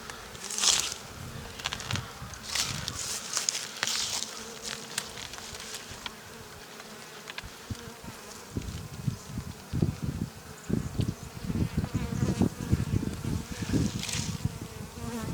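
Honey bees buzz close and continuously around hive frames during a spring inspection, with a dense drone swelling and fading as insects pass by, plus scattered rustles and handling knocks.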